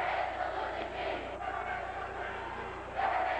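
A crowd at a high school basketball game between Sheboygan South and Fond du Lac roars through an organised cheer, a continuous, echoing swell of many voices filling the gym without a break.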